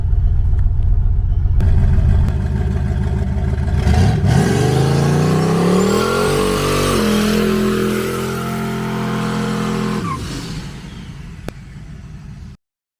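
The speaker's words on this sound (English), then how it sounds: "Proceeded to lay down the weakest burnout this car has ever done." A Ford Fairmont engine roars and revs hard for several seconds during a weak burnout, with a rising, straining whine, then cuts back down to a lower rumble before stopping.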